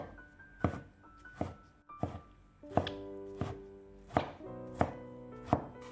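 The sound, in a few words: knife dicing green beans on a cutting board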